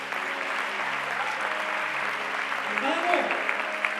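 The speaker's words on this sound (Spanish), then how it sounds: "Denle un aplauso bueno al Señor." Church congregation applauding during a Spanish-language sermon, a steady broad clapping wash lasting throughout, with a voice speaking briefly over it.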